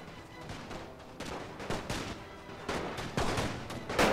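Rifle fire in The Great War strategy game, with Lee-Enfield rifles among the weapons: repeated sharp volleys and crackling shots in uneven rhythm, moderately loud, growing denser toward the end with no talk over it.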